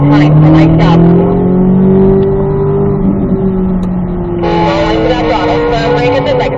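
A car lapping a race track drones loudly throughout, its engine pitch sliding up and down through gear changes and turns, with voices talking over it.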